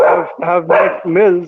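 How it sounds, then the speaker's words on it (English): Dogs bark and whine in a short run of four harmonic yelps, close and loud, overlapping a man's speech. "my apologies for the dogs."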